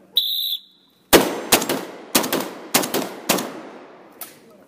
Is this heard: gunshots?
yes